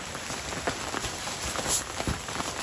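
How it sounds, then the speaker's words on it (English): Rain falls on a bubble tent at a campsite, a steady patter of drops spread evenly across the surface, with scattered closer taps standing out against the wash. "Here comes that rain back in."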